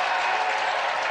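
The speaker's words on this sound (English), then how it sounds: "Crowd getting into it now" A women's college basketball crowd at a Duke versus Wake Forest game roars and claps in a dense, steady wash of noise, brief and loud throughout.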